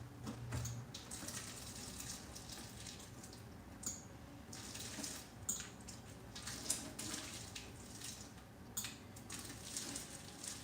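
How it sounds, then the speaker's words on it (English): Water drains out of a pot of cooked chili-flavor instant noodles into a sink: a faint, continuous splashing trickle with small irregular spatters and drips, close by and alone. "I'm attempting to drain this without losing all of my noodles."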